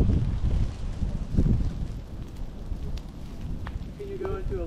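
Strong wind gusting during a prescribed burn, rough buffeting rumble against the microphone that rises and falls in uneven surges throughout, with faint higher crackles and a brief tonal chirp near the end.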